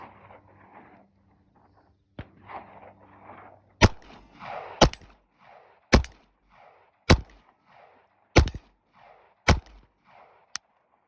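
KelTec CP33 pistol fired at an outdoor range at a steel target: about seven sharp, loud reports spaced a second or so apart, each followed by quieter ringing or rustling, with faint talk early on.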